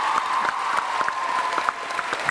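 Audience applause at a TwitchCon panel, a steady, dense wash of clapping from a large crowd, loud and continuous with no talk over it.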